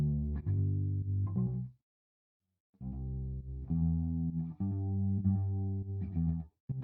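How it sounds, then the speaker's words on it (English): A solo bass guitar tone with chorus and distortion plays sustained notes whose volume drops sharply in quick pumping dips, and one long gap cuts the sound completely. No voice is heard. "Let's solo the bass so you can hear what that sidechain compressor's doing."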